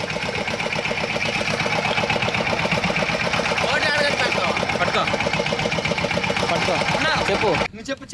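The engine of a fishing boat runs loudly and steadily close by, a continuous throbbing drone, and it cuts out abruptly near the end.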